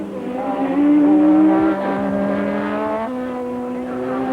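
Niki Lauda's Ferrari Formula One car at Monza, a loud sustained engine drone with steady harmonic tones that rise and then shift pitch as it changes gear.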